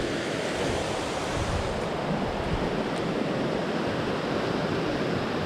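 A river rushes steadily at Noland Creek in the Great Smoky Mountains, a loud, broadband wash of flowing water filling the whole stretch without pause.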